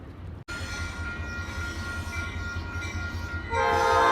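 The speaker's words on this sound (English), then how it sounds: "they actually have like these old school trains that still run" An old-style train rumbles steadily past in New Orleans with a low continuous drone and sustained horn tones, swelling louder near the end.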